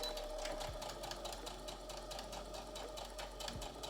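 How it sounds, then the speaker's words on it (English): Sewing machine running steadily to stitch the shoulder seams of a homemade apron, a continuous fast whir that stays fairly quiet and close. "Now let's sew together the shoulder seams."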